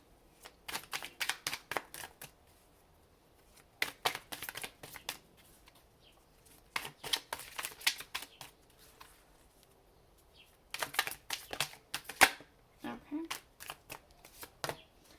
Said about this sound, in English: let's go ahead and get this Night Vale deck all finished shuffled up